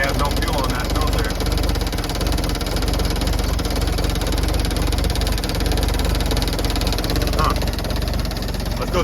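A 1961 International Travelall ambulance engine runs with no fuel in the filter, a loud, close, steady idle with a rough, knocking throb, and voices talking over it.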